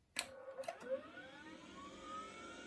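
An Akai S1000 sampler switches on with a click, then its cooling fan whines up into a rising, steady whir, fairly faint and heard alone.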